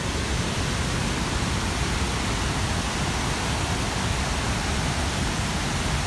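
Victoria Falls on the Zambezi River pours with a dense, unbroken roar, a loud wash of broadband water noise that fills the air steadily and alone, with no voices over it.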